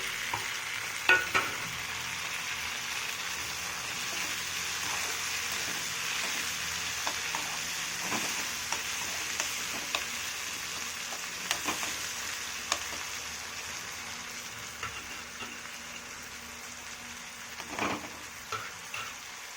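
Tomatoes fry in a pan with a steady close sizzle, broken by occasional scraping stirs and small pops, with no talking over it.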